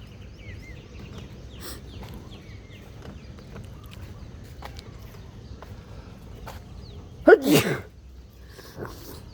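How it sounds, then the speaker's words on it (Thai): A single sharp sneeze bursts out loudly near the end, outdoors at a temple in the rain, over a steady murmur of rain-like background noise. "จามแล้วนะตอนนี้"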